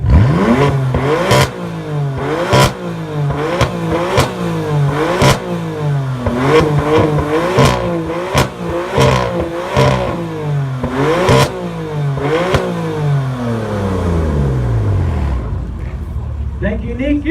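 At a Melbourne car meet rev battle, a car engine revs loudly over and over, each blip rising sharply and then falling, before it settles to a lower run near the end, with a crowd voice now and then.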